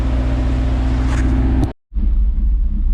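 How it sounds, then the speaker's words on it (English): A truck engine drones loudly close by with a rough, steady rev, cutting out abruptly for a moment before the roar returns. "Alright, so it's revving."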